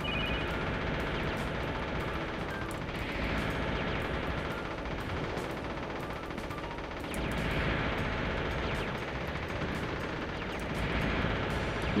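Continuous dense gunfire and explosions from the Wargames: Defcon 1 video game, a steady loud barrage of rattling shots and blasts with recurring swells, no voices present.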